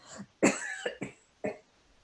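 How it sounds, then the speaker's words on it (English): Several close, sharp coughs in quick succession, loud and dry, separated by brief silences. "I'm going to cough"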